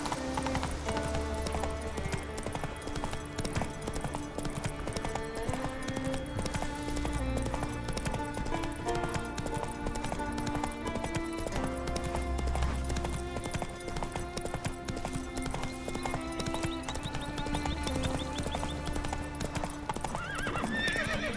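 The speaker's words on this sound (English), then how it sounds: "Ooh, wild horses." Wild horses gallop with steady clip-clopping hooves and repeated neighs and whinnies in The Witcher 3, set against a continuous game music score.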